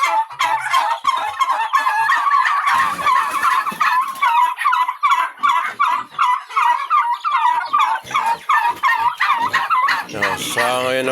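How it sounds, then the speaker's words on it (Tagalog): A flock of turkeys kept as farm birds gobbles and calls in rapid, overlapping bursts, loud and close, continuing without pause for several seconds. "Ito natin yung mga manok pabo."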